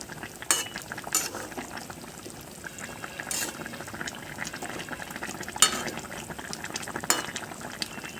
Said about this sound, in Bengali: মাছটা সহ রান্নাটাকে আমি আরেকটু ফুটিয়ে নেব।